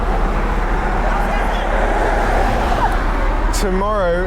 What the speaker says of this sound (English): Loads of traffic, loads of pedestrians.